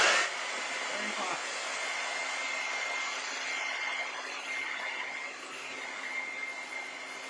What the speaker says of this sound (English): and then we're going to dry it with a hairdryer.